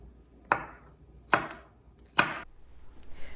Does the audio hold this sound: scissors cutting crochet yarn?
no